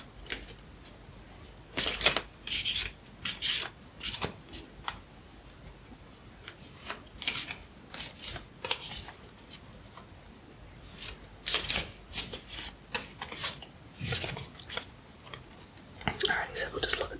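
A deck of oracle cards being shuffled close up, soft papery riffles and slides in uneven bursts with quiet pauses between.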